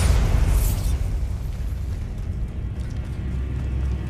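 A Bombarda explosion spell from the video game Hogwarts Legacy goes off as a deep booming blast, then trails into a low rumbling roll that stays steady.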